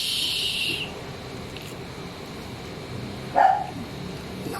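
A single short dog bark sounds at a distance over a quiet, steady background hum.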